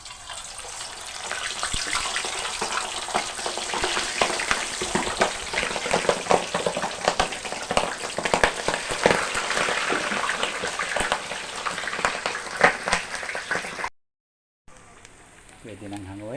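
Chunks of pork belly for lechon kawali deep-frying in hot oil, giving a dense, steady crackling sizzle that holds loud and close without a break, then cuts out briefly near the end before a quieter stretch with a voice.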